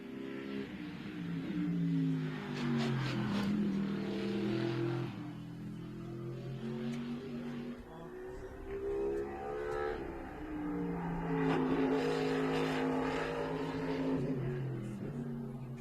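Good Speed Racing Mercedes race car finishing a lap at the Oschersleben circuit, its engine heard at a distance rising and falling through gear changes as it passes, with other track noise and faint commentary in the background.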